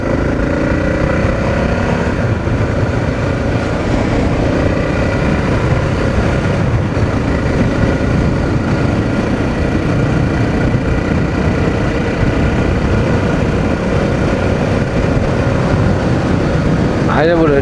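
A Honda XR600R motorcycle cruising along a country road, its steady engine drone and wind rush constant and close throughout, with a rider talking over the noise.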